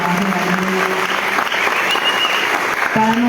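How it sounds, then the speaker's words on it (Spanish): Dense, steady applause from a concert audience honors the sound engineer Gabriel Colmán at a show, with a speaking voice heard over it. "Quiero también un aplauso muy especial para nuestro sonidista Gabriel Colmán."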